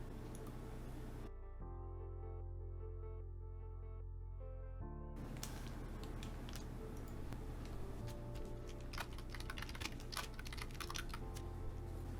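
Typing on a computer keyboard, with quick, faint key clicks in bursts after a brief pause, close and clear against a low steady hum.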